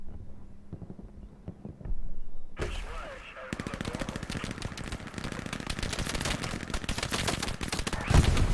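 Gunfire in Hell Let Loose, from sparse distant single shots to a sudden burst, then dense rapid machine-gun rattling that continues loud and close to the end.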